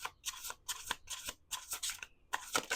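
Tarot cards are shuffled close up in a series of quick riffling bursts, each a crisp papery flutter separated by short pauses, quiet and alone.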